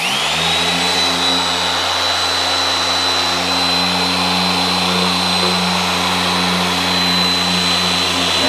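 A car polishing machine whirs in a steady, loud, continuous tone at a high speed setting, running alone without pauses.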